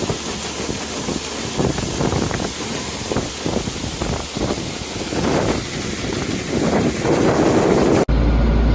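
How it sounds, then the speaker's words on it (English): Steady wind roars and buffets outdoors on a Kansas farm during wheat harvest, a constant broadband rush with gusty surges, ending abruptly. "It's still kind of windy outside"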